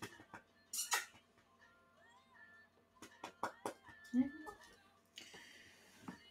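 A house cat meows a few times close by, in short bright calls mixed with a man's speech in French and some rustling, with a burst of hiss near the end.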